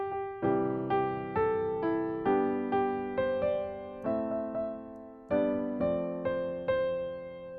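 Piano playing a song simply from a lead sheet with both hands, a melody over block chords, a steady sequence of struck notes and chord changes, moderately soft and close with no talk.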